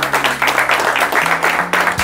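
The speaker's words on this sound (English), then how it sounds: "What a big round of applause" Audience applause following a talk on stage, a short burst of dense, close clapping from a crowd with a faint voice underneath.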